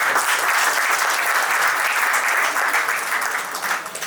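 An audience claps steadily at a Gujarati matchmaking convention in Surat, a dense sustained round of applause that stays full and even throughout before tapering slightly near the end.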